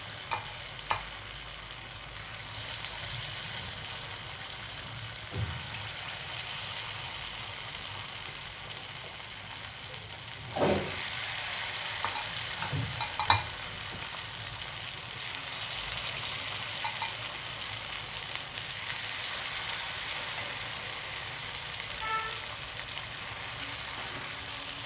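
Battered egg pieces for egg manchurian deep-fry in hot oil with a continuous bubbling sizzle, faint to moderate, broken by a few brief louder crackles and stirring clatters as pieces are added and turned.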